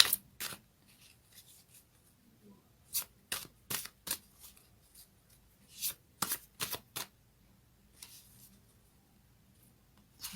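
Tarot cards from a fairy-themed deck are shuffled and riffled in quick irregular bursts, crisp close papery flicks separated by quiet pauses, with no talking.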